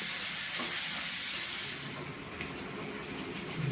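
Sliced onions with a pinch of salt sizzle and fry steadily in a pan for a crab curry, a continuous close hiss with occasional soft stirring scrapes and no talking.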